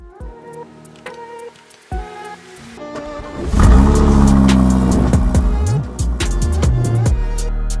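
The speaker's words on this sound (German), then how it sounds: "es ist ein Audi RS Q3 Sportback" An Audi RS Q3 Sportback engine starts up and then holds a loud, steady rumbling idle with a few revving swells, close by after a quieter stretch of scattered knocks and clicks.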